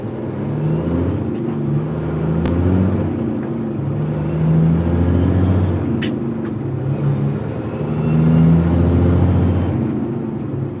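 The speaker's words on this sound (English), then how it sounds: "hoping the guy beside me is loaded so I can accelerate faster than him and get out in front of him" A loaded Mack semi truck accelerating on the road, its diesel engine droning loud and close through rising and falling gear pulls, with brief sharp clicks or hisses in the cab.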